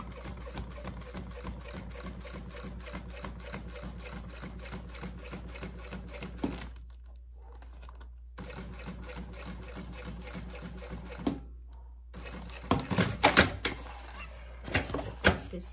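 A domestic sewing machine runs in fast, steady bursts while stitching a fabric bag decorated with transfer crystals, its needle chatter close and continuous, pausing around seven seconds and again near twelve, with handling clatter between runs.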